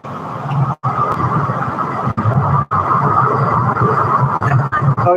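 Road traffic streams past steadily and loudly up close, a continuous rushing hum of cars broken by a few brief quiet gaps, with no voices heard.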